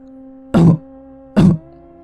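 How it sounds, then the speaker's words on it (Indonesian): Two short, muffled coughs, evenly spaced, close by against a faint background hum. "Suara batuk itu terdengar kembali"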